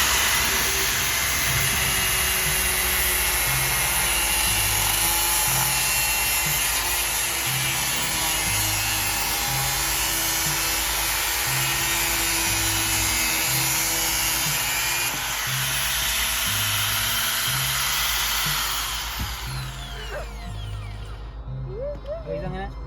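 A power tool saws through a tablet with a display, cutting it into pieces: a loud, steady grinding whine with a rough, pulsing low rumble that runs for about nineteen seconds before cutting out.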